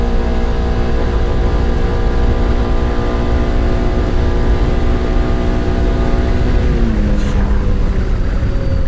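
A Polaris Xpedition UTV engine drones loudly and steadily up close while driving over rough terrain, with a sustained harmonic hum whose pitch drops near the end.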